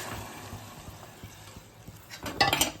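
Marinade for green chicken being mixed in a pot: soft scraping and light clinks of a utensil against the pot, steady and close, ending in a louder burst of clattering stirring, with no talking.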